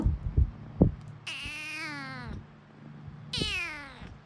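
A kitten gives two drawn-out, high meows separated by a short pause, after a few soft bumps and rustles nearby.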